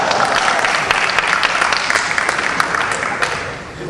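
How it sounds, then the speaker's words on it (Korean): Sustained applause from a pastors' gathering at a Methodist ministers' conference in a church, dense and steady through the clip, tapering slightly at the end. "박수 좀 많이 치세요"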